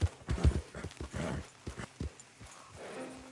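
Horse hooves clip-clop in a quick galloping rhythm in Red Dead Redemption 2, the beats close and loud at first, then thinning out and easing off toward the end.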